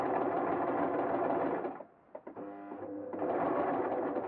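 A serger stitching a T-shirt hoodie runs in a loud steady mechanical whir, cuts out briefly with a few clicks and a softer slow rumble, then speeds back up to full stitching.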